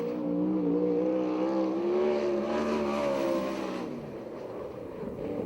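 A USAC/CRA sprint car roars around the dirt oval at Perris, California, a loud, steady engine drone that shifts pitch as it accelerates, then fades slightly as it moves away.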